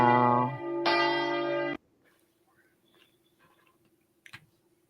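Church bells ring out loudly for nearly two seconds, a rich stack of resonant tones cutting off abruptly, followed by near silence with faint scattered sounds and a brief click near the end.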